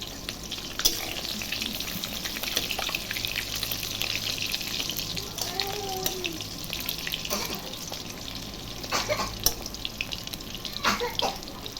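Chicken pakoras frying in hot oil, a steady close sizzle with occasional clinks and soft scraping as pieces are turned.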